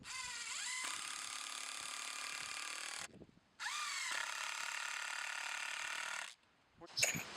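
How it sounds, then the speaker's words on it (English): A power drill drives a screw into wood in two sustained whirring runs, each rising in pitch as it spins up, steady and close, separated by a short pause with a clatter at the end. "We're going to take a screw. I'm just going to go right into that wood."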